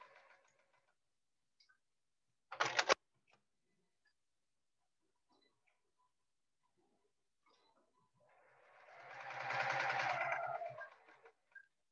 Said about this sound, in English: I'm going to sew 1/4 inch down the side of each, or the side of the line on each side.